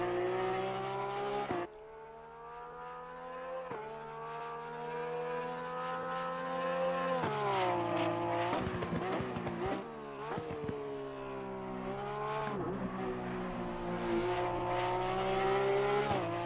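Race car engine on a lap of Zandvoort in Assetto Corsa Competizione, a strong revving tone that climbs through the gears with sharp shift drops and brief braking dips, steady and close throughout with no talk.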